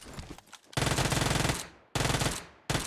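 Uzi submachine gun fire in a video game comes in two long, loud rapid bursts with a short third burst starting at the end, each a dense rattling stream of shots.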